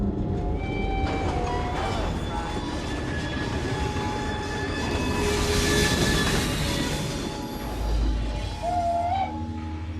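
A train rolls along in Assassin's Creed Syndicate, set in Victorian London, with a steady rumble of wheels and carriages. Tonal whistles and squeals rise over it, and a voice briefly speaks partway through.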